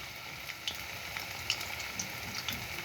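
Malabar spinach leaf fritters sizzle softly in oil, with a continuous crackling hiss broken by small pops and spatters, heard fairly quietly and with no one talking.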